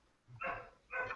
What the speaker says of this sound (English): So you have a cat and a dog, Jordan?